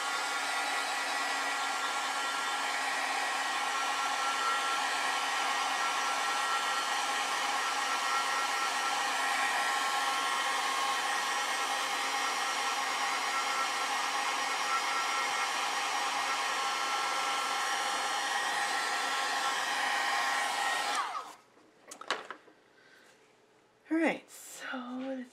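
A hair dryer blows steadily and loudly on a watercolor painting for about twenty seconds, then cuts off, leaving a few soft handling noises and a brief bit of speech.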